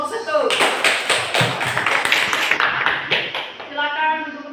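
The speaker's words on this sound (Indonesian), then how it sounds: "Tepuk tangan dulu untuk kelompok 1." A classroom group claps for the first presenting group: a burst of many hands applauding for a couple of seconds, fading out as a voice speaks at the end.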